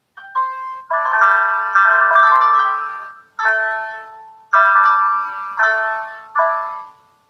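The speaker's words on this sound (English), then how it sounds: "I've got a Koto on my phone." Plucked koto tones from an Android phone app ring out in a string of bright melodic phrases, each note decaying before the next, with short gaps between bursts and no voices.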